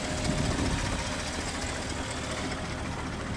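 A car's large 4.8-litre direct-injection engine running with the hood open, a steady dense mechanical hum and faint ticking clatter that fills the clip without a break and with no talking.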